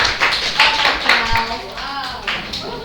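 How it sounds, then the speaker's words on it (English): Short, uneven clapping from a small group of students in a classroom, a handful of distinct claps spread over a few seconds, with a voice speaking over it. "Give her a round of applause."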